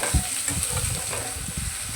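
Grated carrots sizzle as they fry in a pan and are stirred with a spoon. A sharp scrape opens the sound, and then a steady close hiss of frying continues under soft stirring noises.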